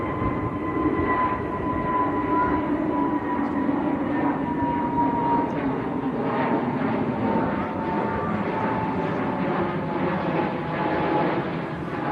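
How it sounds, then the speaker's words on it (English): A British Airways airliner takes off at Manchester Airport in windy conditions, a steady, loud jet roar with engine whine holding across the whole stretch, wind adding broadband rush. "British Airways up nice and early."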